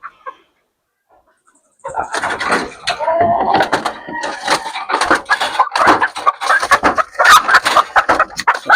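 Fighting cocks cluck and scratch about while feeding, a near, busy stream of clucks and pecking noises that begins abruptly after a brief near-silence and continues densely.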